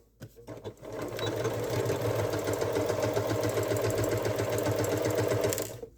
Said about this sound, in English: sewing down that raw edge. And back stitch at the beginning and end.